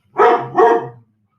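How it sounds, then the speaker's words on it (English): A dog barks twice in quick succession, close and loud, then silence. "there's Nella barking at something."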